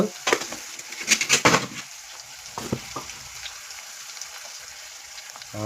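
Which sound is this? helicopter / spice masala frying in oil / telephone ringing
spice masala frying in oil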